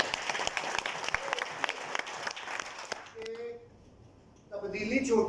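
Audience applause, sharp claps ringing out loudly for about three seconds, then dying away into a near-quiet pause before a voice starts speaking.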